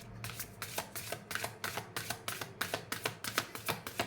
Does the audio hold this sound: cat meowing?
no